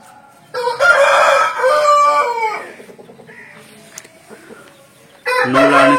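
An aseel rooster crows loudly nearby in a long, strained call, followed by quieter clucking and rustling, then begins another crow.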